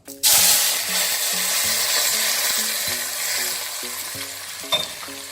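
Very hot oil poured into a metal bowl over fresh Manado sambal dabu-dabu, erupting in a loud sudden sizzle that settles into a steady crackling hiss with small pops, no talking.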